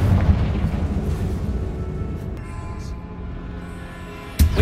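A Confringo blasting spell in Hogwarts Legacy sets off a booming explosion. A dense rumbling burst fills the scene and fades, then a sharp crack follows at the end.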